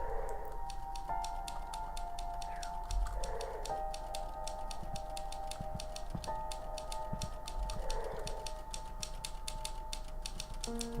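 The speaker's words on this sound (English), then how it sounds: "this fellow's just typing away." A character in the video game The Novelist types steadily on a typewriter, with rapid, even key clicks over a soft ambient game hum. Faint tonal music swells now and then.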